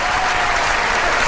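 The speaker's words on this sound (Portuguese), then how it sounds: "vamos receber com muito carinho e uma salva de palmas" A studio audience on a Brazilian TV show welcomes a guest with a loud, thick, unbroken roar of clapping that holds steady throughout.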